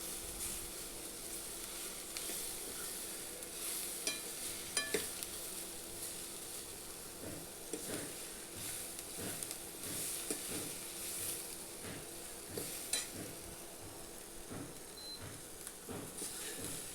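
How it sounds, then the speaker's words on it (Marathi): Misal masala with ginger and garlic sautés in a pan, a faint continuous sizzle broken by soft, irregular scraping and tapping of a spoon stirring through the mixture. "छान आता हे सर्व एकत्र करून फिरून घ्यायचं आहे थोडंसं मस्त असं परतायचं आहे"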